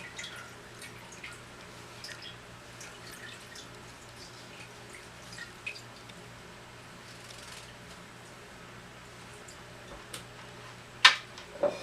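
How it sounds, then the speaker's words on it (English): Soft, irregular drips of whey falling from draining homemade cottage cheese into a container, faint against quiet room noise, with a couple of sharper drips near the end. "the remaining whey will go ahead and drain"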